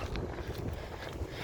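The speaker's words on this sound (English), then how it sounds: "Sorry if it's a bit windy." Steady wind buffeting the microphone outdoors during a training run for the London Marathon, a broad low rumble that stays loud and unbroken throughout, with no talk.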